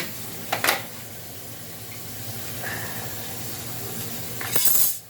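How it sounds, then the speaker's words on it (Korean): Tap water running into a bathroom drain during a clogged-drain cleanout: a steady rushing stream with a couple of brief clinks and splashes, swelling louder near the end. "화장실 쪽 이렇게 물을 틀어가지고"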